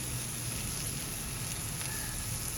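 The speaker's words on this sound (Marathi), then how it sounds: "आता आपण पराठा शेकायला घेऊया." A radish paratha roasts on a hot griddle, giving a steady, soft sizzle and crackle that runs evenly throughout with a low hum underneath.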